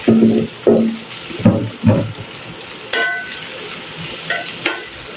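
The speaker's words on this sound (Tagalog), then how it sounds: "Nagigisa lang tayo ng ating garlic. At ng onions." Garlic and onions sauté in a hot pan, with sharp spatula scrapes and clanks at irregular intervals over a steady sizzle, close and fairly loud.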